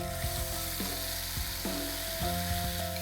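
Bombay duck fish dropped into a pan of garlic frying in oil, giving a steady close sizzle with stirring and scraping clatters, no one talking.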